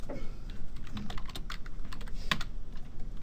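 Keys clatter on a computer keyboard while a value is entered during 3D modelling work, a steady run of quick, close taps with one sharper click near the end and no talking.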